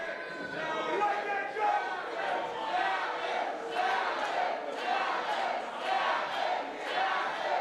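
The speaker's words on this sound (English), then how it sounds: "And you hear this crowd here in St. Helena is firmly behind PJ Savage." Wrestling crowd in St. Helena roars steadily in support of PJ Savage, a dense, sustained wall of cheering and shouting with rhythmic swells, loud and continuous throughout.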